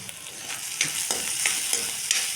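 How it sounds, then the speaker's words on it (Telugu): Onions with curry leaves, green chili and ginger sizzle steadily in hot oil for a tomato yogurt chutney, broken by several soft stirring scrapes; close and continuous, with no voices. "ఇప్పుడు ఉల్లిపాయలు కూడా ఒక ఒక నిమిషం వేగాలి"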